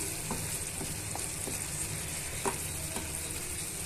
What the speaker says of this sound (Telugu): వన్ టేబుల్ స్పూన్ గరం మసాలాని యాడ్ చేసుకొని ఇవన్నీ కూడా ఈవెన్గా మిక్స్ చేసుకోవాలి